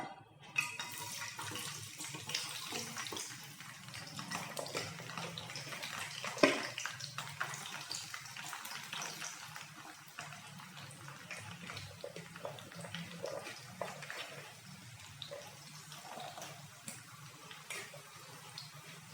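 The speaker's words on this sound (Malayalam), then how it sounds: "ഇനി ഇഞ്ചി അവിടെ കിടന്നൊന്ന് മൊരിയട്ടെ" Ginger frying in hot coconut oil in a pan gives a steady, close hiss of sizzling that runs unbroken for the whole stretch with no talking.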